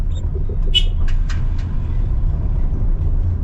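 A border guard car passes along a city street in Astara, Gilan, Iran, its loud, close engine rumbling steadily throughout, with a few brief higher squeaks early on.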